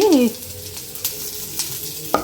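A steady sizzle of food frying in hot oil, with a short voice-like sound at the start and a few light clicks of a utensil.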